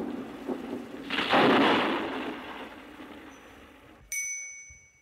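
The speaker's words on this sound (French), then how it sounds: "une pluie serrée se mit à tomber" A thunderstorm with heavy rain: a rolling rumble of thunder swells and slowly fades over steady rainfall, followed by a sudden bright, ringing metallic tone near the end.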